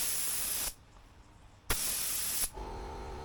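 Top coat sprayed onto white leather BMW M3 seats, arriving as two loud, close hissing bursts with a short quiet pause between them and no talking.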